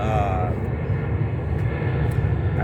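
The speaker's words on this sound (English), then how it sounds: "Had a plane flying over, big plane. That's military plane." A large military cargo plane, a C-17, passes overhead outdoors, a loud steady low roar of jet engines filling the whole stretch without letup.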